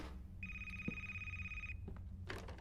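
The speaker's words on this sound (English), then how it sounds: "Phone's ringing." An electronic phone ring in an indie horror video game sounds once as a steady, bright tone lasting over a second, over a low rumbling background with a few small clicks.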